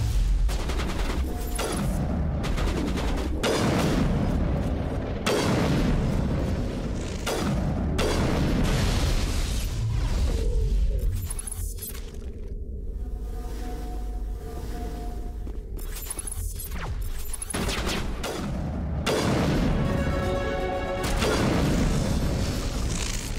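Heavy, powerful weapon fire in Mass Effect 1 Legendary Edition, dense repeated blasts and booms filling the whole stretch with a brief lull midway, loud and close throughout.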